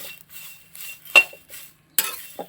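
A utensil stirs bitter gourd and dried shrimp in a pan, giving a few sharp metallic scrapes and clinks separated by quiet pauses.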